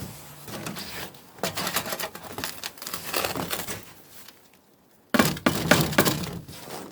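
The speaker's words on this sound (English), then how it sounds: "Right now I'm going to dump this into this pan." Crushed roasted gold quartz poured into a gold pan outdoors in freezing weather, heard as a series of gritty crunching, rattling bursts that pause briefly, then a loud final clatter of stones.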